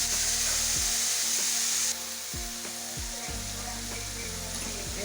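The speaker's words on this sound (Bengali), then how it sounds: "সবগুলো একটু ভেজে নেব সামান্য একটু হলুদ পরিমাণ মতো লবণ" Ingredients with curry leaves frying in a pan as turmeric and salt go in for a semolina snack, giving a steady loud sizzle throughout with a few scraping stirs and knocks.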